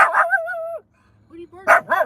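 A pug barks in two short bursts at the start, then again near the end, close and loud, with a brief pause between where someone speaks.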